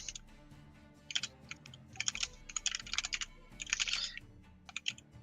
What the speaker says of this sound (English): Just typing a message.